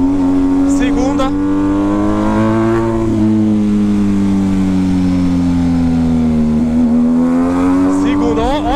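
A loud car engine with a straight-pipe exhaust revving and droning up close, exhaust roaring with a rising and falling pitch as it accelerates through downshifts.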